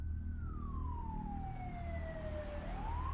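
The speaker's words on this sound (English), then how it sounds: "the sirens reached a fever pitch as the ambulance arrived on the scene" An ambulance siren wails in a steady, sliding tone that slowly falls then rises again, loud and continuous over a deep rumbling traffic background, with no voices.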